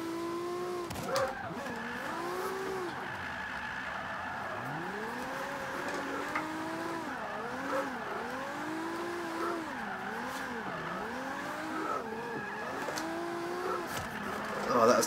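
A Toyota Supra drifts in Forza 5, its engine revving and wailing in sweeping rising and falling pitches while tires squeal through repeated slides, loud and continuous for the whole stretch.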